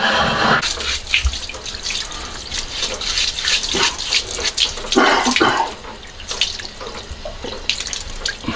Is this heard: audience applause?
no